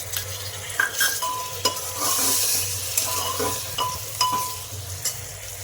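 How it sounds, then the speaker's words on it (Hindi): Onions frying in a pan with tomatoes tipped in, a steady close sizzle broken by scraping stirs and light clinks of a spoon against the metal. "ये देखिए हल्का सा प्याज जब ये ट्रांसपेरेंट टाइप का हो जाए, इसी स्टेज पर हम डाल देंगे टमाटर"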